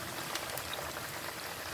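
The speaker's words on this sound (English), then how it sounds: "We are frying the chicken for the jollof rice." Chicken frying for jollof rice gives a steady, close crackling sizzle of hot oil, even and unbroken throughout.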